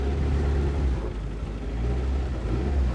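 A 25-brake-horsepower car engine rumbles loudly and close, its low drone rising and falling slightly as it revs, with no voices.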